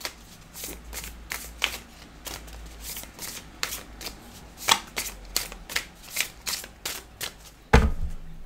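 A deck of tarot cards is shuffled by hand, giving a long run of crisp, close riffling bursts about every half second with a heavier slap near the end and no talking.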